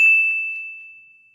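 A single bright notification bell ding strikes once and rings out with a clean sustained tone, fading smoothly over about a second and a half.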